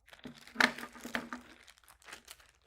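A plastic zip-lock bag crinkles and rustles close by as an oxygen sensor is sealed inside it, with one sharp crackle early and quieter handling after.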